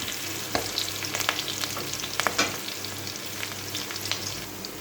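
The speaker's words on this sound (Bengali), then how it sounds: "লঙ্কাটা একটু ভাজা হোক, তাহলে ঝালটা ছাড়বে।" Green chillies and black cumin sizzling in hot oil in a home kitchen, a soft continuous frying hiss broken by sharp pops and a few stirring scrapes, close and fairly quiet.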